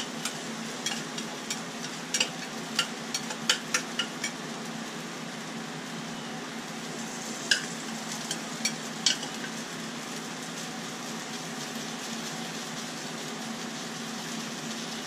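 Thick salmon patties frying in a pan, a quiet steady sizzle with scattered small pops and crackles over about fifteen seconds, no talk.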